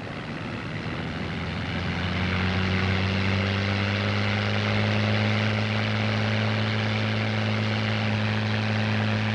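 A P-51 Mustang fighter's piston engine roars at full power during takeoff, its propeller at maximum 3,000 RPM, a steady loud drone that rises in pitch and swells as the aircraft accelerates, with no talk.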